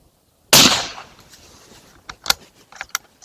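A single suppressed shot from a Steyr Pro THB .308 bolt-action rifle, a sharp close crack fading quickly, followed by faint clicks and rattles.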